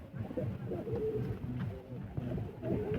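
A single male Rampuri pigeon coos in low, soft, repeated phrases, fairly close and steady, with a faint bit of background murmur.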